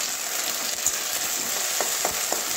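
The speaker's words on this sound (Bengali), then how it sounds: "কাঁচা লঙ্কার পেস্টও দিয়ে দেবো বন্ধুরা।" Green chilli paste fries in a pan with Bombay duck (lote fish) for a spicy bhuna, giving a steady, close sizzle with a few soft stirring scrapes.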